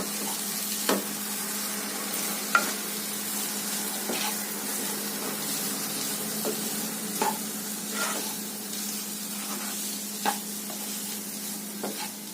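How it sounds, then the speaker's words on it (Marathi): Cluster beans (gavar) sautéing in a pan with masala, giving a continuous close sizzle broken by occasional sharp scrapes and taps of the stirring spoon, with no talk. "आता हे मिनिटभर चांगलं परतून घेऊया आपण."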